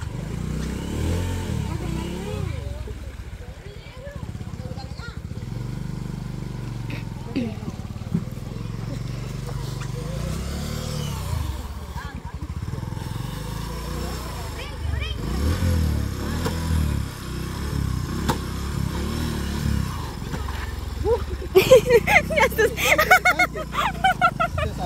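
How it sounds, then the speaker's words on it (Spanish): A motorcycle engine drones and revs as the bike rides up a slope outdoors, close by and persistent, with people talking and calling out over it and a rougher burst of engine noise near the end. "Ahí va a subir la moto Isaías."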